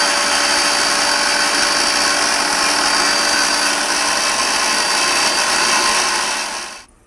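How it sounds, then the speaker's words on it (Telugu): An electric mixer grinder whirs loudly and continuously while grinding almonds and cardamom, a steady high-pitched drone for about seven seconds before it cuts off and fades quickly. "మిక్సీ ఆడుకుంటున్నాను"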